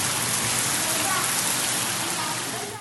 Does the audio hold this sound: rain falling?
yes